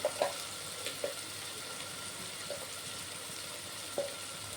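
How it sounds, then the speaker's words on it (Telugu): Ginger, garlic and turmeric frying in a pan for a dal made with white punarnava and amaranth greens, a steady soft sizzle with a few sharp utensil clinks and stirring taps spaced through it, moderately close, no talking. "ఇవన్నీ కలిపేసుకోవాలి కొంచెం ఫ్రై అవ్వాలి"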